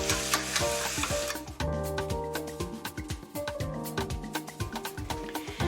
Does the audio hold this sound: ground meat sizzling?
yes